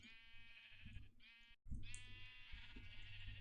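Minecraft sheep in an automatic redstone sheep farm inside a barn bleat continuously in a steady, fairly loud wavering drone, with a brief cut partway through before the bleating resumes.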